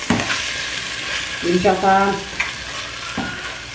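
Seasoned liver frying in a pan gives a steady, loud sizzle, with occasional scrapes and clinks of a utensil stirring, while someone briefly speaks over it.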